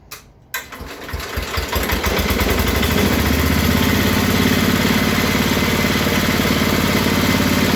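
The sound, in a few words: Bolens 1050 garden tractor engine running after first start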